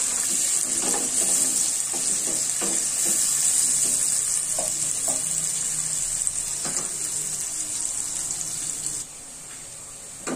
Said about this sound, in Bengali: রসুনটা পেঁয়াজটা কিছুক্ষণ ভাজি নেব